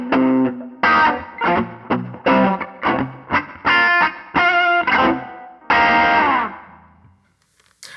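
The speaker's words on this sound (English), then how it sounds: "it just kind of gives you a splashy spring sound" An electric guitar plays a choppy rhythmic riff of short, distorted chords through a TC Electronic Hall Of Fame reverb pedal on a spring setting, each tail splashing into a washy reverb that rings out at the end.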